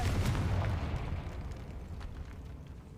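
Confringo spell blast in the video game Hogwarts Legacy, a loud booming burst that decays into a rumbling roar over a few seconds, with no talk.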